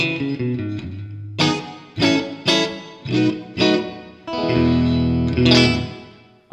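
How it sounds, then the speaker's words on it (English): Electric guitar played through a JHS 3 Series reverb pedal, a run of notes and then chords with lush reverb tails and slight distortion, loud and alone. "we were using their brand new 3-series reverb pedal"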